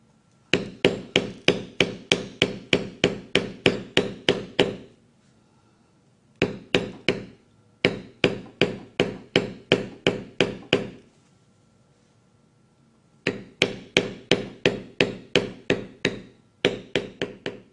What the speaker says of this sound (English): by beveling on this side it gives the illusion that the other side is standing up.